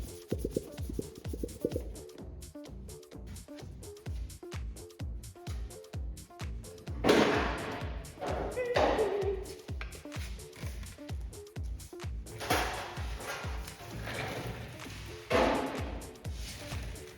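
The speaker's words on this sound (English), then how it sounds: "put some real-time footage in of me hammering this body line" Rapid, evenly spaced hammer blows ring on a Holden HQ sheet-metal quarter panel body line, a steady rhythmic tapping with a few louder, scraping bursts mixed in, fairly quiet overall.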